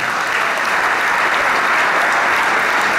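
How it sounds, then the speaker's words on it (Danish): An arena crowd claps loudly and steadily for two young fighters after a C-class bout at a combat sports event, a full, sustained round of applause. "Giv lige en kæmpe hånd, kære publikum."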